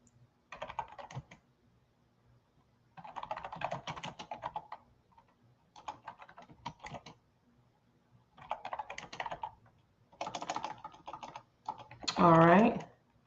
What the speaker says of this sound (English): And I'm typing in the final prompt.